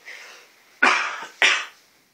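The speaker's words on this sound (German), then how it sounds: "Ich muss mal kurz husten" Two sharp, close coughs about half a second apart, each trailing off quickly, after a faint breath, from a man playing a video game at home; no speech.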